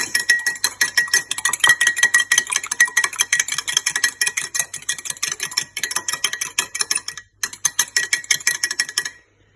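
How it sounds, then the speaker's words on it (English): A whisk beats an egg in a bowl with a rapid, steady metallic clatter, loud and close, running almost without pause before stopping briefly and resuming to the end. "So we need to whisk our egg."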